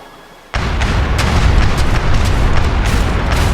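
Pirate ship cannons fire in a naval battle in Age of Empires III, a sudden loud blast after a quiet moment followed by a steady barrage of booming shots and rumbling impacts, with no talking.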